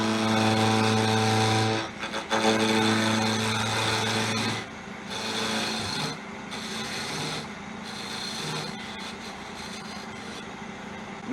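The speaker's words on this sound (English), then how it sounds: "First thing that I usually do is part off the end where the chuck, so I have room for the tool to get in there." A wood lathe spins a spindle held in a chuck while a parting tool cuts off the end. A steady motor whine runs under a loud, scraping cut that comes in several separate pushes.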